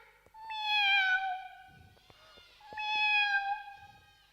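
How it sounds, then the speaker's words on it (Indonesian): A cat meows twice, clear and close, each a drawn-out tonal call separated by a short pause, with a few faint clicks and no talking. "Kisah seekor kucing kecil bernama Kelly."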